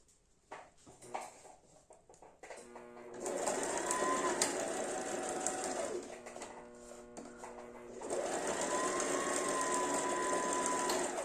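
A sewing machine stitches seam to seam on a basic toiletry bag, running in two steady whirring bursts separated by a pause, close and fairly loud, with faint bird coos in the background.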